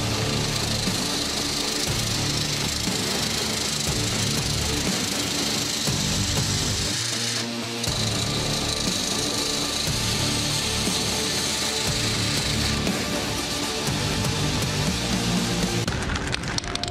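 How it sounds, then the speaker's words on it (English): A belt sander grinds a wooden sword handle into shape, a loud, continuous abrasive roar with fluctuating pressure and a brief dip in the middle. "Then I'll go on the sanding belt and get her carved up."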